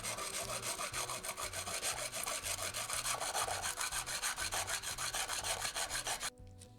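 A file rasping back and forth along the cut edges of glass panes for a small aquarium, a quick, even rhythm of close, gritty strokes that stops abruptly near the end.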